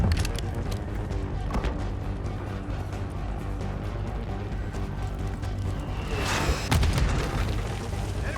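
Mortar positions blown up in the video game Call of Duty Black Ops 6, with a dense rumbling barrage of booms and a louder blast near the end, continuous and heavy.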